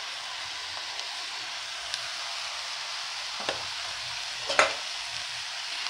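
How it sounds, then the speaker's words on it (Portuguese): Eggplant sizzles and fries in a pan with onion already sautéed, a steady soft hiss with a few scraping stirs and light clatters. "A cebola já tá refogada, agora eu tô colocando a berinjela."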